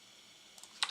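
Computer keyboard keys are tapped in a short burst of a few quick clicks near the end, close and moderately loud after near silence, with no talking.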